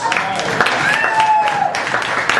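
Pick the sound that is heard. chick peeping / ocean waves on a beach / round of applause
round of applause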